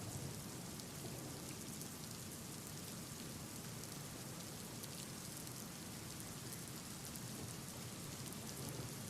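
Heavy rain pouring steadily onto surfaces in Palghar, India, a dense continuous roar heard from a distance, with no voices.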